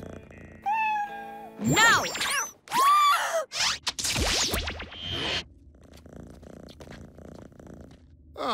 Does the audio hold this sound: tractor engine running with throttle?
no